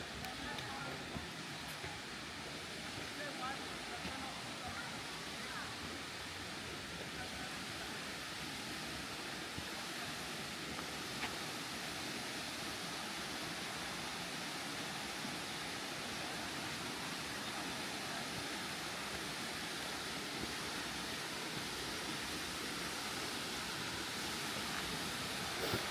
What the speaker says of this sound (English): But here we are at the waterfall.